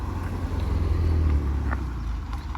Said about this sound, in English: This is another Mazda coming through.